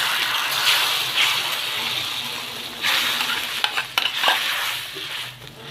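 Garlic and greens fry in a pot for a taro and meat dish, giving a close, steady sizzle. A spoon stirs and scrapes through them with clinks against the metal.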